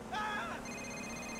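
A phone rings in GTA IV: The Ballad of Gay Tony with a short electronic trill, then a steady tone that holds to the end, fairly quiet over a low background hum.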